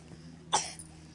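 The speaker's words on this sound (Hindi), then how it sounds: "तेज बुखार है और खांसी भी हो रही है" A single short, sharp cough from a person suffering from fever and a persistent cough, heard alone and fairly close over a quiet background hum.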